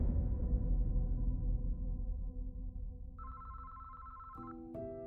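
A telephone ringing, a short electronic ring tone entering near the end of the clip over a low, steady background drone.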